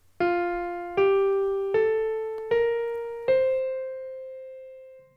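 Five sustained notes played legato and slurred, smoothly one after another, each swelling in and gliding into the next, with the last one fading out slowly.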